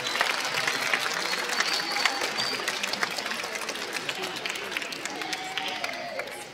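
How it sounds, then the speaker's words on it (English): An audience at a high school band concert applauds after a raffle announcement, giving a steady wash of clapping from a moderately sized crowd that slowly tapers off. "round of applause for that"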